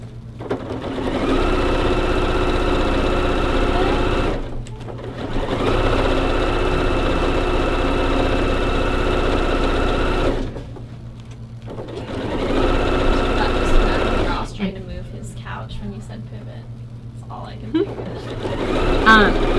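A sewing machine stitches a mini quilt being made into a pillow, running in long steady bursts with brief pauses, then shorter stop-and-start runs as the work is turned at a corner, with a voice heard at times.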